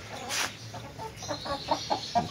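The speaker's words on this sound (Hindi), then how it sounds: "ये देखिए माशाल्लाह से ये मेरे कुछ मुर्गियाँ हैं" Several desi hens cluck in short, uneven bursts nearby in a small room, with a louder squawk early on and no talking.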